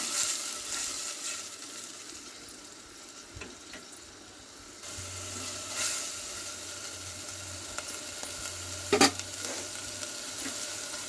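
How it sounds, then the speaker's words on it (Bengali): Onion and green chili paste frying in mustard oil while being stirred, a steady soft sizzle with faint scraping and a brief louder clatter near the end, no talking. "পেঁয়াজ আর কাঁচা লঙ্কা একসঙ্গে বেটে রেখেছিলাম, ওটা দিয়ে দিলাম তেলের মধ্যে। ওটা দিয়ে হালকা নেড়ে নেবো।"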